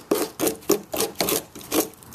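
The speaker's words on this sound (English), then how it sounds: "I've got this little nail puller." A small nail puller scrapes repeatedly across bare wood while carving a log, six or seven close, rhythmic rasping strokes in quick succession with no talk.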